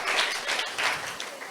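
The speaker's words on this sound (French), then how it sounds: "je vous demande de l'applaudir très fort" An audience applauds a guest at a school orientation assembly in a campus amphitheatre in Keur Massar. The clapping is dense and steady, with a few swells, and lasts the whole moment.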